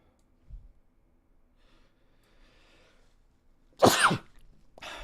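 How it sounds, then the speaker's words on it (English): An adult sneezes again after a faint earlier breath or sniff, one loud close burst late in the clip followed by the start of another, with quiet gaps between. "Goodness, cannot stop sneezing."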